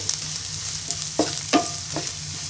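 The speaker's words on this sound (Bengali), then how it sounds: "এখানে আমি চারটি শুকনো মরিচ তেলে গুঁড়ো করে নিয়েছি এবার দিয়ে দিব এবার ভালো করে নেড়ে নিব" Crushed dried red chilies stirring in hot oil in a pan, a low sizzle broken by a few sharp scrapes and clinks of the spoon.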